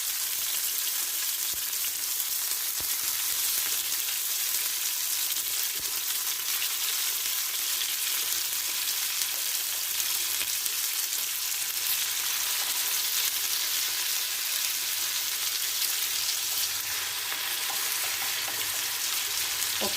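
Tuna (choora) pieces frying in a pan, a loud, continuous bright sizzle of hot oil with small crackles throughout and no talking.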